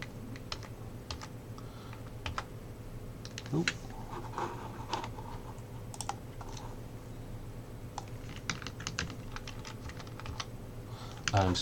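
Keys clatter on a computer keyboard during spreadsheet work, irregular bursts of quiet clicks and taps spread across the stretch, with a low steady hum underneath.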